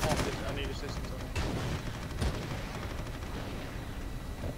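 Gunfire and cannon shots from a fortress-defence battle in the video game Eternal Crusade, a dense, continuous barrage of loud bursts and booms with a few sharper peaks, with no talking heard.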